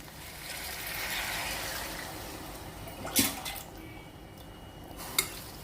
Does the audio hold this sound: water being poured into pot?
yes